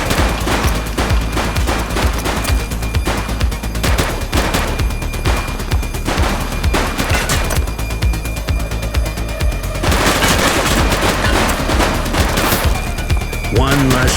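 Rapid gunfire erupts in a police shootout in the video game The Precinct. Loud, dense bursts of shots and automatic fire run nearly nonstop, with brief shouted voices in the mix.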